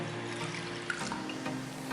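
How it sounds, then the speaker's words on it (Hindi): A cup of water is poured into a bowl, giving a soft, brief trickling splash, faint and close with no talk. "सबसे पहले हम एक बाउल में 1 कप पानी डालेंगे"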